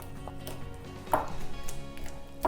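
Ripe mango, avocado and fresh aloe vera being mushed together by hand for a face mask, giving soft, irregular squelching taps and scrapes with a brief louder smack near the middle, close and alone.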